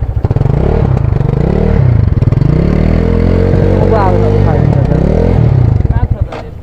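A motorcycle revs up close and loud, its engine climbing and falling in repeated throttle blips with a rattly, clattering edge, the roar steady for several seconds before easing off at the end.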